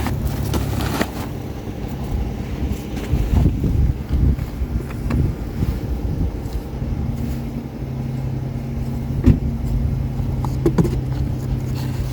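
Strong wind buffets the microphone outdoors, a constant low rumbling roar with occasional gusty thumps throughout.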